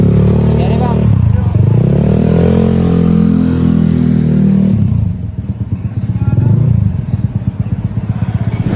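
A Honda Beat scooter with a bored-up 54 engine revs loudly and close in a workshop, the pitch climbing and holding high, then dropping to a throbbing, pulsing idle before another rev.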